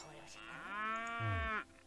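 A cow in the video game Fluffy Horde lets out one long, clear moo lasting over a second, close and prominent against faint background game sound.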